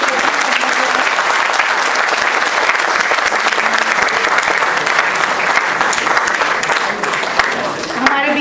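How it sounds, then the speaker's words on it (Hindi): A hall audience gives a loud, sustained round of applause to welcome a guest at a summer lecture series event, dense clapping continuing steadily throughout. "मैं चाहूँगी कि हम जोरदार तालियों से उनका स्वागत करें।"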